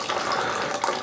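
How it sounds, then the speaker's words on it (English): Liquid draining steadily from a bourbon mash, a continuous close trickling and splashing flow with no pauses. "it is draining really well"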